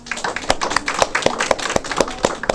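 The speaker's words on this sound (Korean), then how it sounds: "박수로 환영할까요?" A small church congregation at a Sunday service claps to welcome newcomers, a close, fairly loud run of sharp individual claps in a quick, uneven rhythm lasting a couple of seconds.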